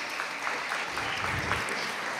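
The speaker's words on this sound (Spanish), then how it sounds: "Un fuerte aplauso para ellos." Applause from an audience at a school awards ceremony, a soft, fairly distant patter of clapping hands that continues evenly without speech.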